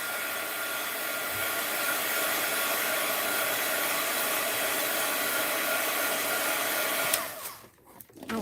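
Steady broadband blowing roar of a heat gun warming art material, loud and constant for about seven seconds, then cutting off abruptly with a brief dip into quieter sound near the end.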